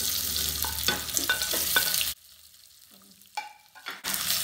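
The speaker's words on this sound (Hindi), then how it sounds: "अब ये तड़क गया है तो हम लोग ये मिर्चियाँ डाल देते हैं" Green chilies crackle in hot tempering oil with curry leaves, a loud broadband sizzle with stirring clicks that cuts out abruptly, then returns in short bursts.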